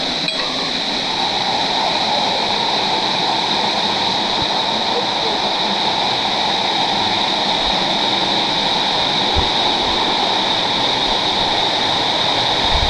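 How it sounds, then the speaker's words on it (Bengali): A small waterfall tucked in a narrow gap at a jungle summit near Cox's Bazar roars in a loud, steady wash of falling water that fills the whole stretch without pause. "খুবই চিপার ভিতরে একটা ঝর্ণা, ছোট্ট বাট সুন্দর।"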